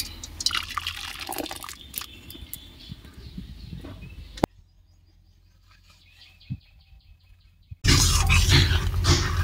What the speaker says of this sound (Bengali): সিদ্ধ ডালটাকে এখন কড়াইতে ঢেলে দেবো